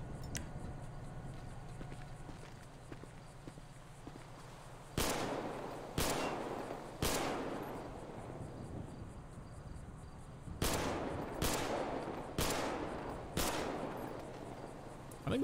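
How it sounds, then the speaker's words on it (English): Sharp gunshots at a video game shooting range crack out in two clusters, three evenly spaced then four more, over a low steady background hum. "I'll be out here at 1040 at the shooting range if you hear any gunshots"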